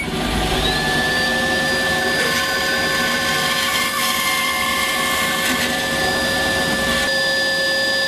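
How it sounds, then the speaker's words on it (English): A bandsaw cuts through wood with a steady, dense whine and hiss. The blade hum and motor tones hold continuously at close range for the whole stretch, without a voice. "And now when you cut, do not go too fast, otherwise the saw blade will jam with sawdust behind."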